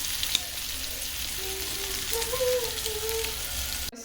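Fish sizzles steadily in hot oil in a pan as it fries crispy, a dense close crackle throughout with a faint squeaky tone rising in the middle.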